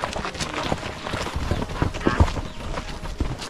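A horse walks a trail on Pacaya Volcano, hooves clip-clopping in a steady uneven rhythm on loose ground, fairly close with faint background voices.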